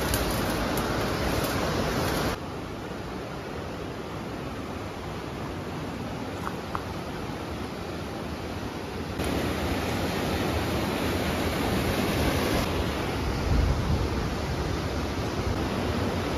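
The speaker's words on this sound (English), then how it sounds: "Little waterfalls cascading all over the place." Small waterfalls cascade along a rocky creek in the backcountry, giving a steady, broadband rush of running water that stays close and loud throughout, with slight shifts in level as the position changes.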